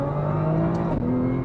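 A Nissan R35 GT-R NISMO with 150,000 miles and a rebuilt transmission accelerates hard, its engine pulling in a loud, steady rising roar heard from inside the car without talking.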